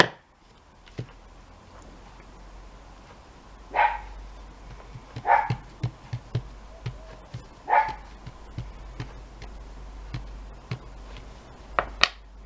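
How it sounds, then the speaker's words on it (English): A few short, distinct dog barks spaced several seconds apart in a quiet indoor room, with faint tapping and light clicks between them. "they start to bark when they hear themselves as if it's another dog"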